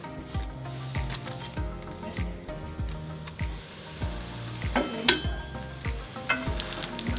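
A quesadilla sizzles in hot olive oil in a pan, a steady crackling fry with light clinks of a utensil and pan against a background of soft music.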